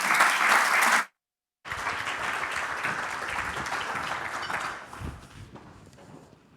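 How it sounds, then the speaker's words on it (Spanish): An audience at a talk on social impact gives a round of applause for speaker Gema Sacristán. After a brief cut, the dense clapping continues for several seconds, then thins and fades toward the end. "Les pido un aplauso para ella"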